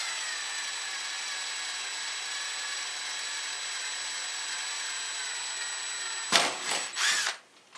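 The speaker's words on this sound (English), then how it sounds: "Notice I'm using a very low drill speed." An electric drill runs at low speed into a steel crossmember on a 1/14 scale Tamiya semi truck, a steady close whine for several seconds before a few bumps and the motor winding down.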